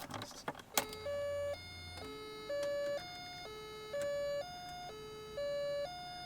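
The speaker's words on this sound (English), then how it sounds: "This car has one of the coolest chime noises I've ever heard." An electronic chime in a Volkswagen Corrado repeats a two-tone pattern, alternating lower and higher beeps in a steady rhythm, clear and close after a few clicks.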